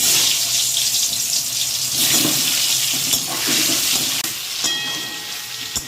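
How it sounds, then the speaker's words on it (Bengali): Potatoes drop into hot refined oil and fry with a loud, dense, continuous sizzle close by that swells and eases slightly throughout, with a sharp clink near the end. "তেলটা গরম হয়ে গিয়েছে, এবার ছেড়ে দেবো আলু।"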